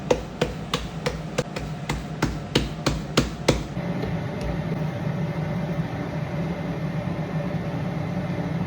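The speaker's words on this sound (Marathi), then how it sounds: "लगेच भाकरी थापायला सुरुवात केली" Bhakri flatbread dough for a fasting thecha bhakri patted by hand: about a dozen evenly spaced slaps over the first four seconds, then a steady broad hiss with no more pats. No one speaks.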